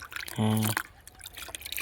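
Irrigation water flowing into a farm field: a soft, close trickle and gurgle of running water, with a brief tonal voice or noise burst near the start.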